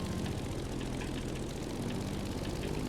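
An airplane engine drones steadily in The Crew Motorfest racing game, a constant mid-loud propeller hum that holds without pause or change, alone with no voices.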